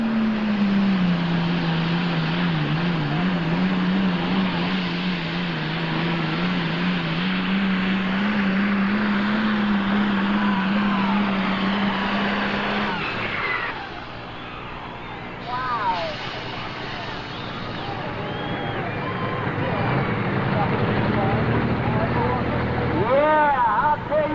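An International 1066 pulling tractor with twin stacks roars loud and close at a 1995 NTPA 7500 super stock pull in Urbana, Ohio, holding a steady drone before dropping off, then building again, with an announcer talking over it.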